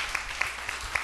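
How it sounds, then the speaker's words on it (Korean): Congregation in a church applauding to welcome two new members, a steady wash of hand claps with a few sharper individual claps standing out, brief and moderately loud. "우리 박수로 환영하겠습니다"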